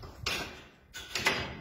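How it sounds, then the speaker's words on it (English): A small pedestrian door of a deer handling pen is shut, giving two close knocks and rattles of the door against its frame about a second apart. "that's the door that we've just shut"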